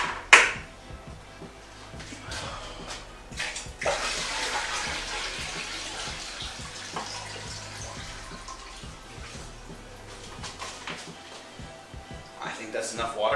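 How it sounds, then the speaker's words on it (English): Water gushes and splashes into a fish tank in bursts, with a loud pour midway, occasional drips and clunks, and a voice speaking intermittently. "So we're going to put the water in"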